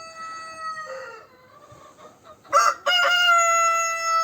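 A Legbar rooster crows loudly and close among a flock of chickens, a drawn-out harmonic call with soft clucking before it and no talk over it.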